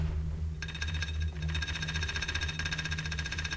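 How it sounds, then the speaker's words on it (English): A chain rattling with a harsh, drilling-like buzz in the video game Oblivion: a rapid, steady mechanical pulsing that kicks in after a brief lead-in and continues loudly without talk. "Is there something down there that's drilling or something?"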